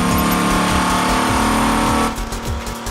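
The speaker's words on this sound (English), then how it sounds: "The team pushes the engine to redline" A Dodge Viper engine on a test dyno howls steadily at high revs near redline, loud and sustained, then the tone drops and eases off toward the end.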